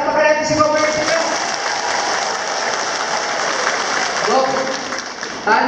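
Crowd applause at a community gathering in Itogon, loud and sustained clapping from many people that swells and dips, with voices and shouts mixed in.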